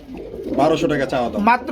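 Racing pigeons at a pigeon market coo in short, close, repeated bursts, mixed with nearby voices.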